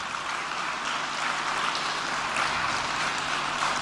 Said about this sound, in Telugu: ఈ సాక్ష్యం కొరకు మరొకసారి చప్పట్లు కొట్టి దేవుని స్తుతిద్దాం.